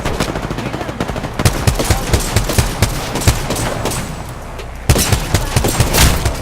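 Rapid automatic gunfire in an Apex Legends match crackles in loud bursts, with sharp individual shots and short pauses between volleys, close and dominant throughout.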